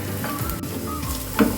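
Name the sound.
stirring kasuri methi in a frying pan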